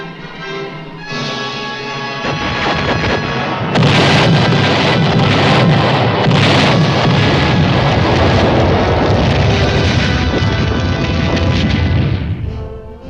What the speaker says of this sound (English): 4 batteries to fire proximity fuses.